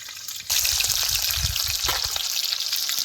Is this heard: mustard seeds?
yes